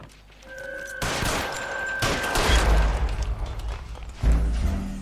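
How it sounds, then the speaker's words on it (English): Gunfire from the video game L.A. Noire, with loud, dense volleys of shots and heavy booming impacts that run almost without a break, followed by one more burst near the end. "So now we're going to try and shoot Mark Bishop."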